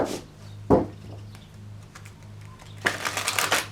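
Tarot cards being shuffled in short riffling bursts, a quick snap early on and a longer rustling flurry near the end, close by against a low steady hum.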